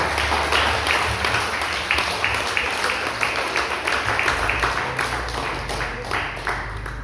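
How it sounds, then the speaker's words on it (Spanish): Congregation applauding during a church sermon, a steady wash of many hands clapping throughout with rhythmic bursts, fairly loud and sustained, little or no talk over it. "Déselo fuerte el aplauso, eso lo merece el mundo."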